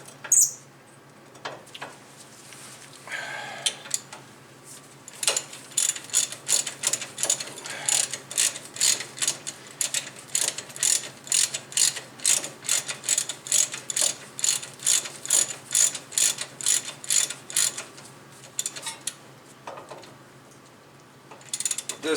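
Ratchet wrench clicking rapidly while tightening the brake caliper bracket bolts on a 2014 Corolla, long steady bursts of close, crisp ratcheting after a few scattered knocks, with no talk.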